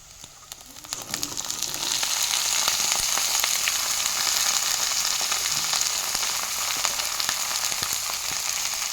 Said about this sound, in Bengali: এবার ফুলকপিগুলো দিয়ে দেব